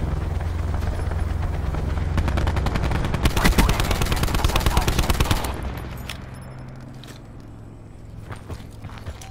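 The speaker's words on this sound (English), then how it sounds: "Get a sniper helicopter overhead." Rapid sustained automatic gunfire from a sniper helicopter in a military shooter video game, loud and continuous for several seconds, then fading into quieter game ambience with scattered small sounds.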